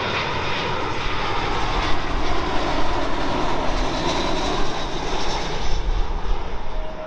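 A British Airways Airbus A320 jet arriving at London Heathrow from Oslo, its engines a steady, loud broadband roar close by, rumbling continuously with no voices.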